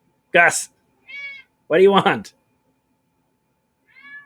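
A house cat gives two short, soft meows, one early and one near the end, while someone speaks in between in a quiet indoor room.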